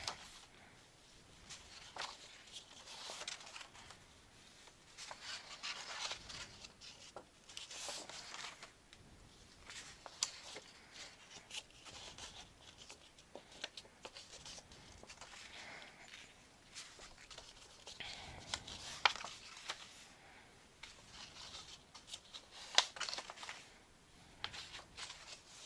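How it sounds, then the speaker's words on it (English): Paper pages of a calendar year album being folded and creased by hand, soft papery rustles and light crisp taps repeating steadily and close, fairly quiet, with no talking. "Now, we're going to fold on everything."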